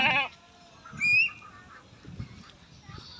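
Goats in a pasture behind a house give two short, nasal bleats close by, one at the start and another a second later, over faint outdoor background noise.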